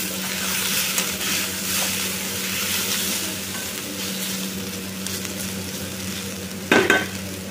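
Tomatoes frying in a pan give a steady close sizzle with faint stirring throughout, and a louder scrape or clatter of a utensil comes near the end.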